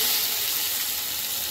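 Marinated country chicken sizzling in hot oil, a loud, steady bright hiss of frying heard close up, with no talk.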